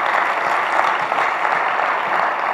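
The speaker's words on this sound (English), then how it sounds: "Come on, somebody give the Lord a hand clap." A church congregation at a Sunday service claps for the Lord during a sermon, a loud, continuous, even roar of many hands clapping with no voices standing out.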